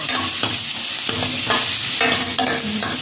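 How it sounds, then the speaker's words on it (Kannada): Onions, tomatoes, ginger garlic paste and curry leaves are stirred in a hot pan, with a constant close sizzle and regular scraping strokes of a spoon roughly every half second. "ಒಂದು ಸ್ಪೂನು ಶುಂಠಿ ಬೆಳ್ಳುಳ್ಳಿ ಪೇಸ್ಟ್ ಮತ್ತು ಕರಿಬೇವು ಈರುಳ್ಳಿ ಹಾಕಿ ಒಳ್ಳೆ ಮಿಕ್ಸ್ ಮಾಡಿಕೊಳ್ಳಿ"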